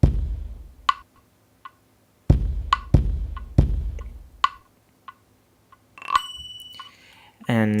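A sparse drum loop from the Omens Drumkit instrument pack, with punchy low kicks and crisp ticking hits, accented by bright bell strikes that ring out, ending in a brief shimmering break.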